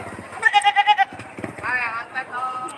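A native male goat bleats at a livestock sale in Padre Garcia, Batangas: a loud, wavering bleat near the mic, followed by shorter cries, with people talking around it.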